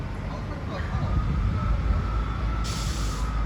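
A train moving at Exeter St Davids station makes a low, steady rumble with a rising hiss near the end, while a voice talks over it.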